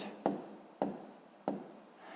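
Pen on paper while working a sixth-grade fraction problem, three distinct close scratchy strokes spaced about half a second apart in a quiet room.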